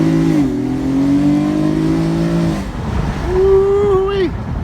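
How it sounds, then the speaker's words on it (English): A 2011 Infiniti G37 S Sport convertible accelerating hard, its loud exhaust note rising in pitch through the gears with a brief drop at the shift, then climbing again, heard from inside the car. "Golly, what an exhaust note."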